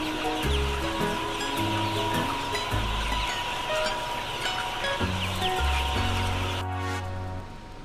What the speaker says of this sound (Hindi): This is rooster.